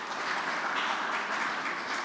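An audience at the inaugural meeting of the Presidential Advisory Commission for Black Americans breaks into a round of applause, a steady, dense wash of many hands clapping at moderate loudness without a break.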